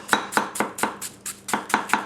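A Masakage Yuki 270 mm gyuto knife chops onions on a board, about eight crisp, sharp strikes in a quick, slightly uneven rhythm, close and clear with no talking.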